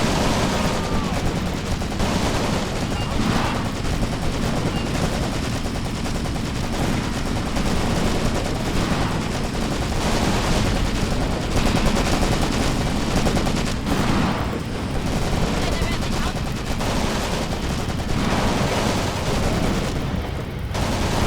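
A tank's machine gun fires continuously in a WW2 winter battle video game, with dense bursts of automatic gunfire and distant booms over a loud, steady battlefield roar.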